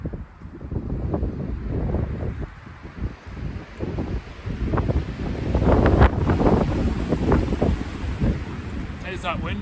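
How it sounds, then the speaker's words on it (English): Wind gusts hard against the microphone outdoors on a winter patrol in minus five, a loud, continuous buffeting rumble that swells and eases throughout. "There's that wind."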